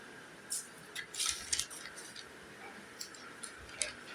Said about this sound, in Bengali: এবার একটু ভালো করে নেড়ে চেড়ে মিশিয়ে দিচ্ছি